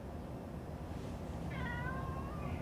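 A cat near an old 1966 Chevy in the desert gives a single clear meow partway through, heard over a steady low background rumble.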